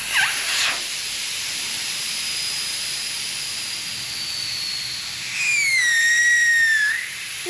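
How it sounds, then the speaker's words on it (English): A steady hiss of air escaping from a boat trailer tire, rising into a wavering high whistle near the end, with a brief squeak at the start. "Ooh, nice whistle tone."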